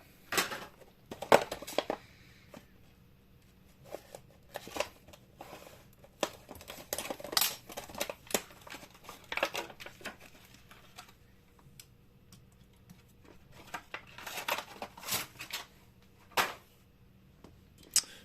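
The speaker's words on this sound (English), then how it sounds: "So I'm going to cut them both open right now." Scissors cutting open the plastic blister and card packaging of Hot Wheels toy cars, with intermittent close snips, crinkles and clicks spread out over a fairly quiet stretch and nobody talking.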